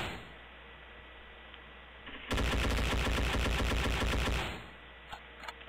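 Automatic gunfire in the video game Endless War 3, a sustained rapid burst of shots lasting a couple of seconds, loud against a quiet game background, ending with a few scattered clicks.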